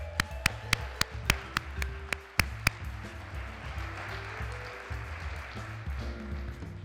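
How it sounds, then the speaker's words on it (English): Sharp claps ring out at a Black History Month celebration, a series of single distinct hand claps at first, then a low murmur of the crowd with scattered background sound, moderately loud in a hall. "Clap it up."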